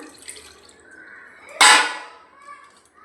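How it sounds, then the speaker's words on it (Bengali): Water from a rinsed bowl tipped into a pot of puffed-rice mixture, one brief splashy pour that rises abruptly and fades, set in a quiet kitchen. "পাত্রটা ধুয়ে জলটাও দিয়ে দিলাম"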